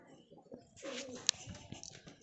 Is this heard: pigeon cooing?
yes